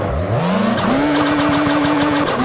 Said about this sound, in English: Banging third gear off that damn limiter.